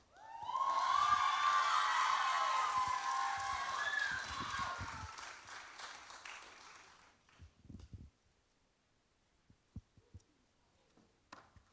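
An audience at a local talent exhibition bursts into loud applause and cheering for a performer, a thick roar of clapping with a whistle that fades after several seconds into a few scattered claps.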